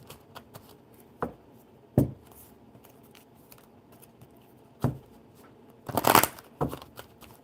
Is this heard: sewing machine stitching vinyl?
no